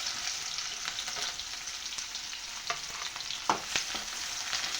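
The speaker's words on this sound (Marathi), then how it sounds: "तेल छान गरम झालं थोडेसे जिरे आणि बारीक चिरलेला कांदा" Cumin seeds and finely chopped onion fry in hot oil in a kadhai, giving a steady bright sizzle broken by a few sharp crackles and stirring clinks, close up and with no talking.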